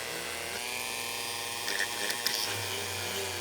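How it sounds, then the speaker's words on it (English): A small drill whirs steadily at close range, a thin high whine with a few brief pitch shifts as the bit bores a pilot hole into styrene plastic. "when you're drilling through styrene"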